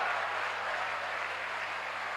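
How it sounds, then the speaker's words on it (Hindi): An audience applauds loudly, producing a dense, steady wash of clapping that holds at an even level from start to finish, with no talk over it. "जोरदार ताली बजाई जाए।"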